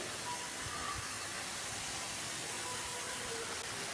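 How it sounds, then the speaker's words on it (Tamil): Thatta vadai frying in hot refined oil, a steady, even sizzle and crackle with a broad hiss throughout and no pauses. "இப்படி நல்லா சலசலன்னு வேகணும்"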